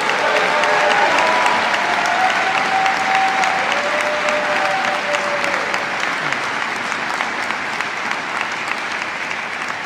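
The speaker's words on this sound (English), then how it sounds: "Let's have another round of applause for our students." Loud, steady round of applause for award-winning students at a diversity breakfast, dense clapping from a large crowd sustained throughout and fading slightly toward the end, with faint voices beneath.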